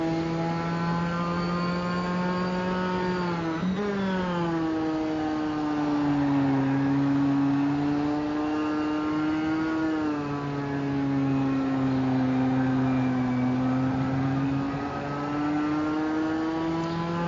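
A race car engine at Okayama circuit holds a steady, droning tone with gentle pitch rises and dips as the driver lifts to conserve fuel, continuous and fairly clear throughout.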